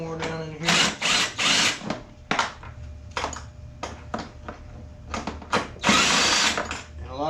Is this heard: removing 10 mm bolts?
yes